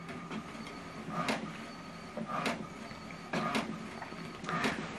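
An HP printer runs an alignment page, giving repeated mechanical whirring sweeps with sharp bursts roughly every second, close and moderately loud over a steady motor hum.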